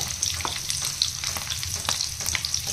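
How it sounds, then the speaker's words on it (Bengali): Prawns frying lightly in a pan of oil, a steady close sizzle with scattered pops and crackles running throughout, no voices. "আমি যে চিংড়ি মাছগুলোকে এখানে আমি একটা করে ভেজে নেব।"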